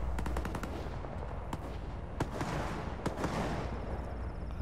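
Gunfire in the shooter video game S.T.A.L.K.E.R. 2: Heart of Chornobyl, with rapid sharp shots in a burst early on, then scattered single cracks over a low rumbling background, no talking.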